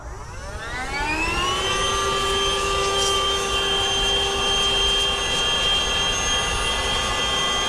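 A small handheld electric air blower spins up and runs steadily, a loud whining jet-like rush with rising tones that settle into a constant high-pitched drone, blowing dust off; no talking.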